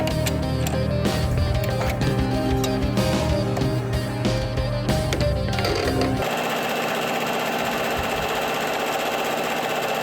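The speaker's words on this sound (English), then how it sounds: "let's sew this together" A sewing machine stitches together fabric pieces cut from recycled bed skirts for a ruffled cottagecore dress. Fast, rattling, mechanical stitching runs steadily for about six seconds, then gives way to a different, smoother continuous noise.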